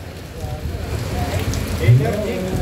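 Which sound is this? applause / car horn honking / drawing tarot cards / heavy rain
heavy rain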